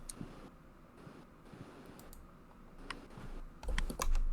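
Rapid keyboard clicking from a computer keyboard, a steady run of light, dry taps at close range, growing somewhat louder and busier toward the end, with no talking over it.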